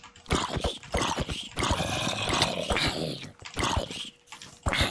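Dogs growl and yelp in a Minecraft game, several animals at once in a loud, continuous, snarling tangle with a few short breaks.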